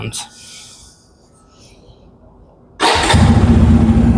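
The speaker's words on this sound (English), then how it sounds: "let me start the engine" A Bajaj Pulsar N250 motorcycle engine cranks and catches after a quiet pause, then settles into a loud, steady idle close to the microphone.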